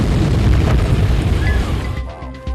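A bomb blast at the Atlanta Olympic park booms loud and broad, a dense roaring rumble filling the whole clip before easing slightly near the end.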